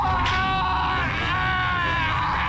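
A man's loud, drawn-out scream rings out as an ivory hunter is whipped into a spiked pit in the Indiana Jones and the Emperor's Tomb video game, set over a dense game soundtrack.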